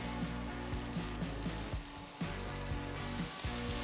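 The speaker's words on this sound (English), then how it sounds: "add more oil, then the red onions. Cook for 10 seconds, then add the green onions." Red onions and then green onions frying in hot oil give a steady, close sizzle with faint stirring, holding continuously with no talk.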